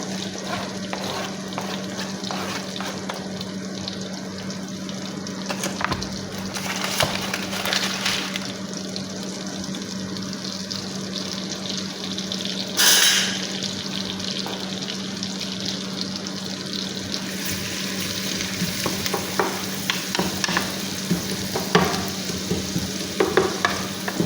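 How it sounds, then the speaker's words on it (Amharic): Red onion frying in a pan for a chicken liver dish, a steady loud sizzle running throughout with bursts of stirring and scraping, no talking. "አሁን ቅድም ያዘጋጀሁትን ቀይ ሽንኩርት አደርጋለሁ።"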